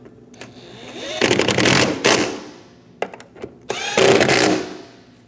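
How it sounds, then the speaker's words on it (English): A power tool runs in short bursts to snug down the fuel rail bolts on the intake manifold of a 2011–2018 Ram 1500 with the 5.7L V8. The loud whirring bursts come up close, separated by brief clicks and pauses. "Snug the bolts down."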